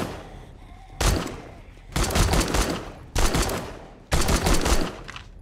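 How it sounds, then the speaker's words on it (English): Bursts of machine gun fire in the zombie survival game 7 Days To Die: four loud, sustained volleys of rapid shots separated by short pauses, close and dominant over a low background. "I like this machine gun. It works pretty good."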